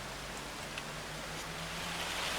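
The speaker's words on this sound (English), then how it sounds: "oh wow, it's rain, rain, and more rain by the look of it" Steady, soft hiss of falling rain on a farm in Farming Simulator 25, an even wash of faint noise with a low hum underneath and no voices.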